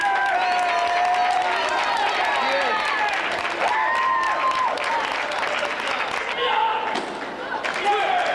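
Applause from the 25,000 participants at the 1999 ATA World Taekwondo Competition welcoming Grandmaster Lee Hang-eun, a large-arena crowd clapping and cheering under prominent voices and tonal sounds, loud and continuous.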